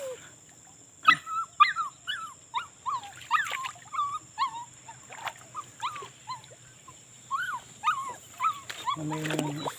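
A dog whimpers and yips in a long run of high, pleading cries with short gaps, fairly close, beside a riverside fishing and cooking outing; a voice briefly speaks near the end.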